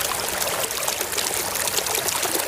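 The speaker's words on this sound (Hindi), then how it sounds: "साला पानी में घुस रहा है।" Water streams and splashes steadily as a person wades into a pond or stream during an outdoor chase, a continuous broad rushing wash with no voices over it.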